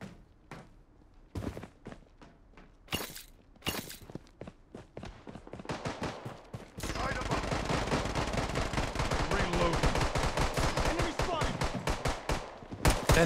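Gunfire in the Call of Duty Mobile game: a few scattered single shots and short bursts give way to sustained rapid automatic fire, loud and continuous, with some footsteps between the bursts.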